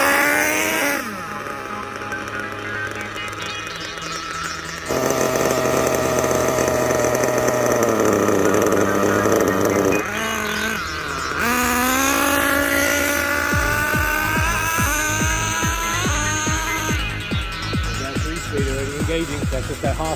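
Kyosho USA-1 nitro RC truck engine held at half throttle, a loud, continuous high-pitched buzzing whine that shifts pitch as it revs and climbs through its three gears, running close and steady with no pauses.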